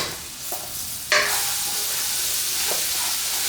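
Crushed ginger and garlic hitting a hot wok over high heat, a sudden loud sizzle that settles into a steady close frying hiss with light stirring, no talking.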